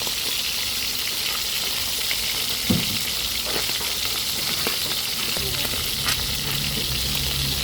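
Boneless dried milkfish (daing na bangus) frying in hot oil, a steady close sizzle and crackle running throughout with a few brief spatters, no talk over it.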